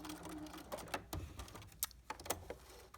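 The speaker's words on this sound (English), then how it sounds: "I'm going to back stitch here" Sewing machine back-stitching the corner of a pocket to reinforce it, faint rapid mechanical ticking in short irregular runs.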